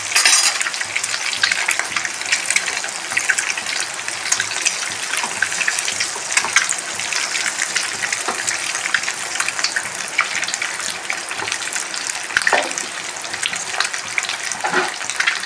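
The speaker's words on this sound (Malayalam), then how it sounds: "അത് ഫ്രൈ ആവട്ടെ വെച്ച മുട്ട നന്നായിട്ട് ഫ്രൈ ആയി" Eggs fry in hot oil with turmeric for a Kerala-style pepper egg roast: a loud, continuous sizzle with crackling pops and occasional stirring scrapes, and no talking over it.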